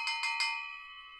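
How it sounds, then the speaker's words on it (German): Rosebark FX Bell effect cymbal, mounted upside down on a stand, struck three times in quick succession, each hit a bright metallic bell-like clang that rings on with a sustained, loud shimmering tone. "Rosebark FX Bell, die so verkehrt herum auf dem Ständer hier liegt"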